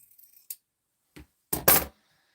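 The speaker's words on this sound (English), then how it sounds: "I'm going to press that and then trim away that excess because I don't need it" Scissors trimming excess quilting fabric at close range: a few quiet snips and clicks, then a sharper double cut near the end, with no talking.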